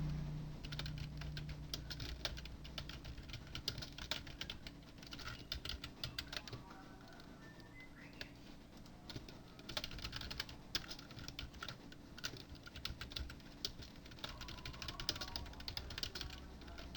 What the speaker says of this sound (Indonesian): Contoh kita ketikkan sesuatu dulu ya